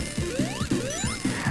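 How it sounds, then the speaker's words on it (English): Fan sound effect from the 16-bit game Sonic Triple Trouble, a quick repeating mechanical pattern of rising whistling sweeps over rhythmic clanking thumps, loud and close. "It's the sound of the fans."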